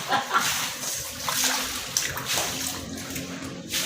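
Floodwater after Typhoon Odette, with running, splashing water and sloshing heard throughout at close range. Faint voices and a dog's bark come through in the background.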